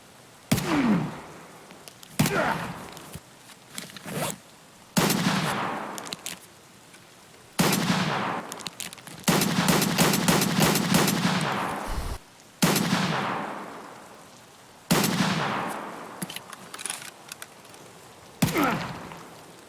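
Rifle shots in Escape from Tarkov crack out at trees, loud sharp reports, some single and one rapid burst, each with a ringing decaying tail, spaced a couple of seconds apart.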